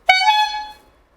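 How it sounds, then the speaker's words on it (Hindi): A handheld horn gives one short, loud, bright honk that fades away within a second, heard on its own with no talk. "मेरे हाथ में ये एक भोंपू है, जब 30 सेकंड पूरे हो जाएंगे तो मैं इसे"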